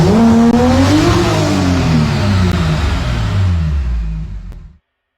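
A BMW N54-engined car with MHD anti-lag revs hard, its engine note rising and then sweeping down over several seconds, loud and close, before cutting off abruptly.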